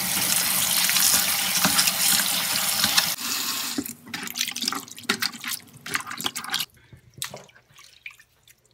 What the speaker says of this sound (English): Wash it with warm water.